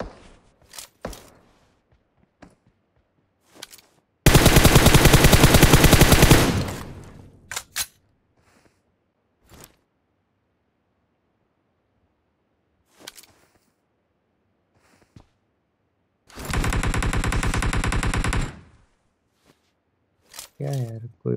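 Automatic weapon fire in the battle royale game PUBG, two loud sustained bursts separated by quiet stretches, with brief voice chatter and scattered clicks between them.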